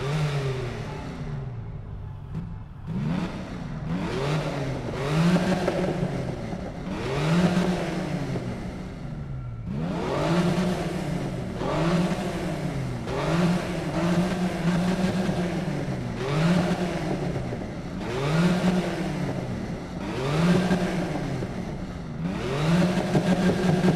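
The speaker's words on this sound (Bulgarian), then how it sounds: "сега ще замълча и ще ви оставя с приятните звуци на този V6 двигател" A V6 car engine in Need for Speed (2015) revs hard over and over, rising and falling pitch sweeps in a steady repeating cycle, loud and continuous with no talking.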